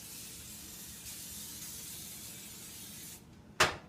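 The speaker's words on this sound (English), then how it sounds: "I'll make sure to spray it down pretty good" A long steady hiss of cooking spray being sprayed onto a pan, followed by a short sharp knock near the end.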